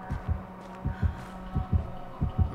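The killer's terror-radius heartbeat from Dead by Daylight pulses in deep, muffled double thumps, lub-dub pairs repeating at a steady, fairly quick pace over a low droning hum.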